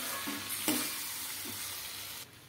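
Potatoes and fenugreek seeds cooking over low heat in a pan make a soft, quiet sizzle with a few light stirring clacks before it cuts off abruptly.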